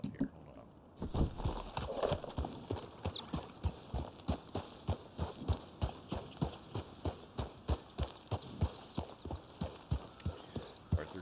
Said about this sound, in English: Arthur driving horsey over the open field